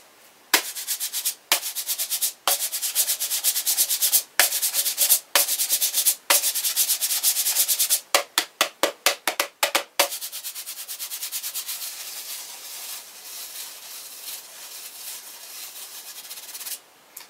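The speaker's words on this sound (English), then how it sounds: "And these are just empty tape cases with some sandpaper and duct tape." Empty tape cases covered with sandpaper and duct tape are scraped together, making close, gritty rasping strokes. The strokes come in separate rhythmic passes, then speed into a quick run of short scrapes, then settle into a steadier continuous rub.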